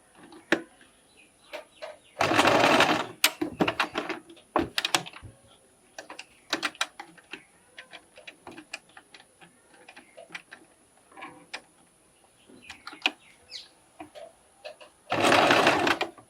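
A sewing machine stitches a corset toile, with two loud sustained bursts of fast motor stitching at the start and end and scattered ticking and clicking of handling and slow stitches between them.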